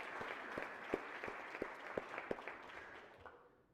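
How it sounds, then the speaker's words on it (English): A crowd applauding on a state Senate floor, steady clapping with a few sharper claps standing out, gradually fading away near the end. "one last round of applause for the folks for everything they did"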